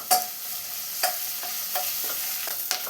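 Sliced onions and curry leaves fry in a pan for Kerala-style payar thoran, with a spoon scraping through them in several distinct strokes over a soft, steady sizzle.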